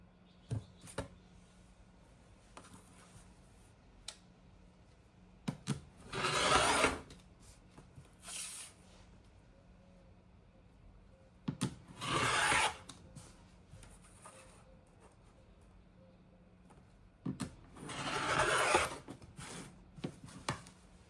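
Fabric being cut into 5-inch wide strips for pouches, heard as three separate bursts of cutting or tearing, each lasting about a second, against a quiet room background with small taps and handling sounds between them.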